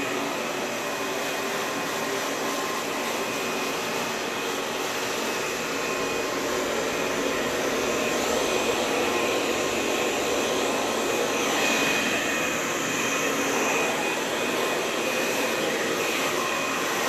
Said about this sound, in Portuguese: desligou o secador aqui